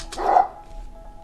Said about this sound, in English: A friendly bark made me smile